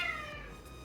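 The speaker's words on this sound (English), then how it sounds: "There's the cat." A house cat gives a single short, faint meow, fairly close, over a quiet indoor background.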